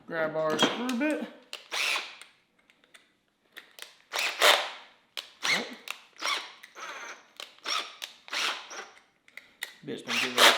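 Drill with a screw bit driving screws into a wooden DIY stool, with short uneven buzzing bursts and clicks, interspersed with handling knocks and a voice talking in between.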